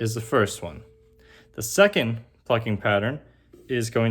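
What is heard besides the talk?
No everyday noises stand out.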